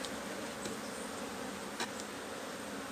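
Honey bees in an opened hive colony, a dense continuous buzzing hum close by, steady and loud with no talking.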